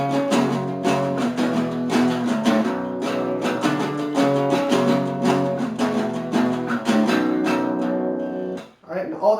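Distorted electric guitar plays an outro, dense sustained power chords ringing continuously at close range, ending with a brief dip and a final strike.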